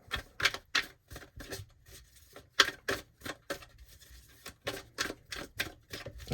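A deck of tarot cards being shuffled up close, with a run of quick, crisp papery riffling bursts in an uneven rhythm and short pauses between them, and no voices.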